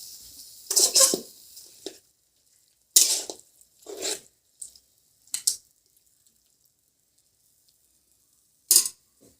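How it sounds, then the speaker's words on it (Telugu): Country chicken curry stirred in a pot with a paste of fried dry red chillies and coriander seeds, heard as several short, loud scraping and sloshing bursts separated by silence. "ఇప్పుడు మా ఎండుమిర్చి ధనియాలు వేపి పెట్టుకున్న కారపు ముద్దను వేసుకొని ఈ విధంగా కలయబెట్టుకోవాలి"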